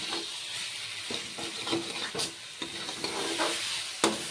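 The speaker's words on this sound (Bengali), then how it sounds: "নুন আর চিনিটা দিয়েও ভালো করে মশলাটাকে ভেজে নেব।" Spice paste frying with salt and sugar in a pan for a pointed gourd and prawn curry, giving a steady close sizzle with scraping stir strokes and light clinks throughout.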